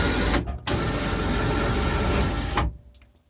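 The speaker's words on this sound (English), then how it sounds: "You can raise and lower your plow." Electric actuator on a Polaris Ranger Denali snow plow whirring steadily as the blade is raised and lowered, a loud continuous motor drone with a brief break near the start, then cutting off and fading.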